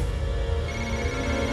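A telephone ringing steadily and fairly quietly, its tone continuous across the short stretch, with no voices.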